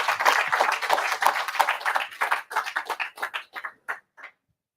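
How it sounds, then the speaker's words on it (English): Applause from a small audience at a hardware show-and-tell meetup, dense clapping at first that thins into a few scattered individual claps before stopping into silence. "can we get a big round of applause for Keys?"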